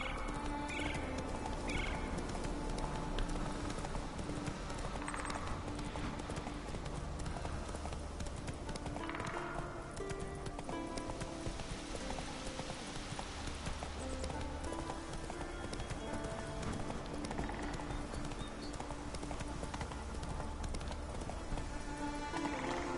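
In a video game, the horse Roach's hooves clip-clop in a steady walking rhythm, set among game music and ambient sound, with faint voices now and then.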